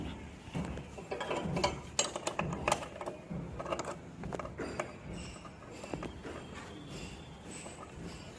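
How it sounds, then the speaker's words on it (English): Nut being fitted by hand on a Passion motorbike, giving faint irregular metallic clicks, taps and ratcheting rattles close by over several seconds against quiet background noise. "Now I am fixing the nut."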